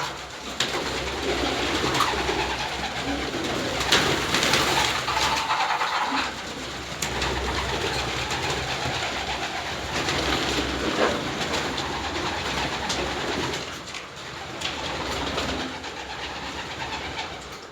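Racing pigeons coo continuously in a loft, a soft layered murmur of many birds close by with constant background rumble.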